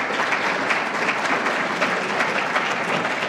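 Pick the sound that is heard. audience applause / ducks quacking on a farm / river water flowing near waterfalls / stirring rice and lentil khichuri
audience applause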